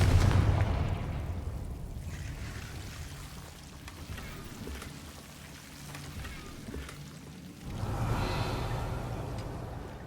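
Confringo fire spell blasts in Hogwarts Legacy: a broad, loud burst at the start and another around the end, with a softer rumbling, crackling game ambience between them.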